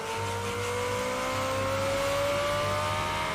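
A car engine revs upward in an anime scene, its rising whine climbing steadily in pitch over a low rumble, loud and continuous.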